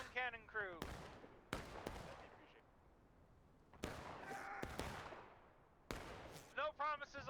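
Civil War-era cannon firing in the video game War of Rights, set on the Antietam Creek battlefield: about five sharp, booming reports spaced a second or more apart, each with a decaying tail. A voice is heard briefly at the start and at the end.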